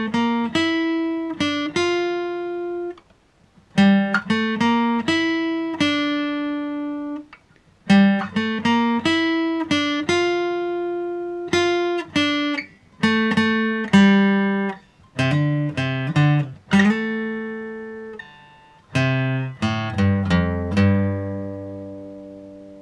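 Acoustic guitar solo played as clear plucked melodic lines with ringing sustained notes, close and alone, in phrases separated by brief pauses.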